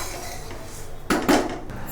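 Crisp fried puffed rice tipped from a pan into another bowl, two short clattering bursts of grains and metal over a quiet kitchen background.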